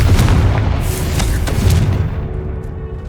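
A Confringo blasting spell detonates in Hogwarts Legacy, a loud, deep booming explosion with several rumbling bursts that roll on and slowly fade over about three seconds.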